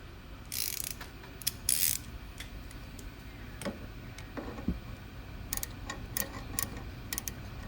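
A bolt being snugged up with a ratchet on a Honda Goldwing GL1000 during a timing belt change; quiet, close ratchet clicks in short bursts with light metallic tool sounds.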